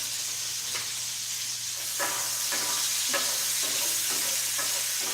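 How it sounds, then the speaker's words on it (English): Jarred garlic sizzling in a hot frying pan with steady hiss, broken by several scraping stirs of a utensil at irregular intervals, close and moderately loud, with no talking. "Can you hear the sizzle?"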